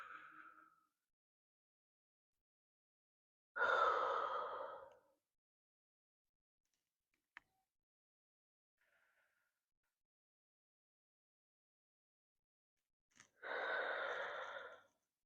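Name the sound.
breathing in and out during exercise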